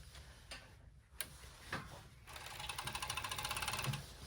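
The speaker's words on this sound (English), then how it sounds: "now I'm going to serge the raw edges" A serger overlocks the raw fabric edges of a tailored bed skirt, starting after a few clicks and taps and running as a rapid, steady mechanical chatter through the second half, close and fairly quiet.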